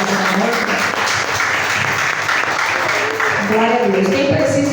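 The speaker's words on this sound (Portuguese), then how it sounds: "As palmas" A church congregation applauds during a worship service, with sustained clapping from many people and voices mixed in throughout.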